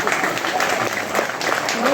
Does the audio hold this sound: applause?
yes